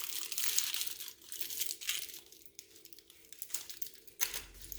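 Fabric for Paverpol-hardened planter legs is folded and wrinkled by hand, making continuous close crinkling and rustling in uneven bursts, with no talk.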